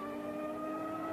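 A Williams FW16 Formula One car engine running during qualifying, a steady, sustained mechanical drone with layered harmonics, fairly loud and unbroken, with no voices over it.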